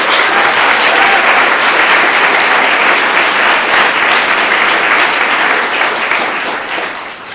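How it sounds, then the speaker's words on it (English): An audience at a conference keynote claps for the organizers and volunteers, a dense, loud, sustained wash of applause that carries on evenly and begins to thin only at the very end. "give one more round of applause to the organizers and volunteers of this conference"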